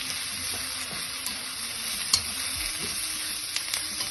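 Carrots and garlic sizzle in a hot frying pan, a steady bright crackle throughout with a few sharp pops and faint clinks of stirring, no voices.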